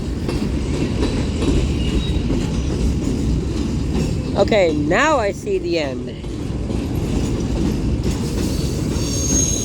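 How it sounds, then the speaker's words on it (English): Union Pacific manifest freight train rolling past Central Avenue, a steady loud rumble and clatter of cars going by throughout, with a brief squeal and someone talking over it. "Kind of surprised I haven't seen any boxcars on this train yet."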